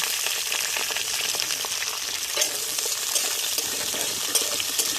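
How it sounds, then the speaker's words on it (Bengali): Potatoes and flat beans fry in hot oil with dried chilli, bay leaf and five-spice, giving a steady close crackling sizzle with small stirring clatters throughout. "এর মধ্যে এবার আলুগুলো আমি দিয়ে ভেজে নেব।"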